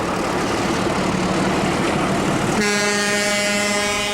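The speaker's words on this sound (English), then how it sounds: "This pair of 1321 class locomotives are leaving the junction with the main line at Ermadash-Sado" A pair of Portuguese Railways 1321 class diesel locomotives leaves the junction with the main line, close and loud, their engines roaring steadily before a sustained multi-tone horn blast sounds partway through and holds to the end.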